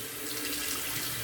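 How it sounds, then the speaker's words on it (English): A shaving brush being rinsed under a running bathroom tap, a steady close splashing hiss of water with no talk. "I'm going to go ahead and rinse off the brush."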